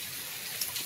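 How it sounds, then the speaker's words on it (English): Rain falls steadily during a thunderstorm as heard from a porch, a soft continuous hiss with a few faint drips near the end. "Love sitting on the porch when we're having these kind of storms and listening to the thunder and the rain"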